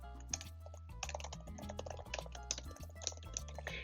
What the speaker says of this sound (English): and if you start typing